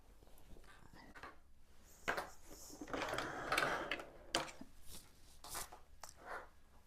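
Sewing machine stitching along the four corners of a fabric bubble bucket, short bursts of quick mechanical clatter separated by pauses and handling rustles, close and fairly quiet.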